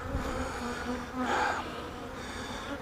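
Honeybees buzz steadily nearby, a soft continuous hum that swells briefly as one passes closer.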